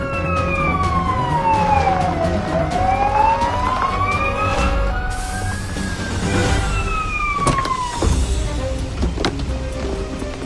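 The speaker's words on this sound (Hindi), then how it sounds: "हिलना मत, एम्बुलेंस आने वाली है।" An ambulance siren sweeps up and down in loud wailing cycles, joined by other siren tones and a constant hum of road traffic as emergency vehicles draw near.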